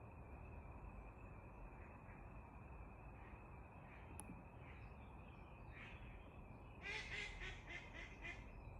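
Ducks quacking outdoors near water, a burst of several quacks late in the clip over steady background noise and a faint whistle-like tone.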